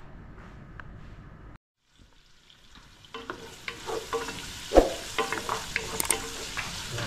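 Onion, garlic and ginger dropped into hot oil in a pan: after a quiet gap, a rising sizzle with crackles and pops builds up, close by, with no voices.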